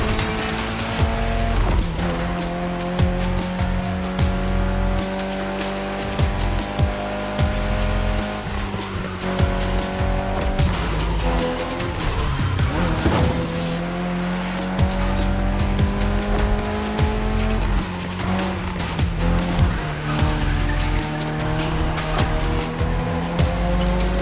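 Mitsubishi Evo X lapping a circuit in The Crew Motorfest, its engine note rising and falling steadily through gear changes with repeated tire squeal and skidding in corners, loud and continuous with no talk.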